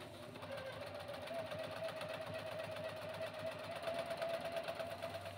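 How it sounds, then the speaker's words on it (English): A sewing machine stitches two seams along pinned quilt lines for flying geese blocks, a steady close mechanical whirr with a rapid even needle rhythm running throughout. "I've pinned, and I'm going to go sew those lines"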